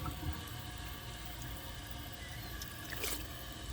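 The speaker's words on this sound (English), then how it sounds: "I'm going to add some more water back to the bowl" Water poured back into a toilet bowl during a 2012 Project Source high-efficiency toilet flush test: a faint, steady splashing trickle with a slightly brighter gush near the end, alone with no talk.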